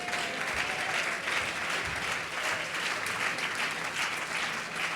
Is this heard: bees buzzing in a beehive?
no